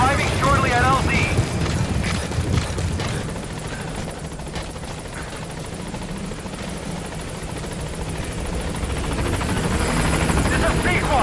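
Helicopter in Metal Gear Solid V: The Phantom Pain flying in to a landing zone, a loud steady rotor roar with thumping and a low rumble, while game voices speak over it.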